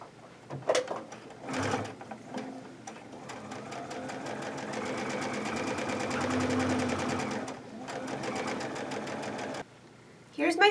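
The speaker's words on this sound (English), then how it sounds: "I'm going to back stitch twice and then stitch the rest of the seam." A sewing machine stitches a fabric seam in a steady, rapid mechanical chatter, pausing briefly between runs, close by and fairly quiet, with a voice speaking at times.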